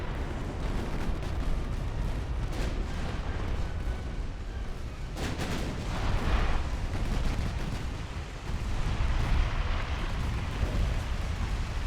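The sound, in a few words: friendly naval gunfire in the video game Ultimate Admiral: Dreadnoughts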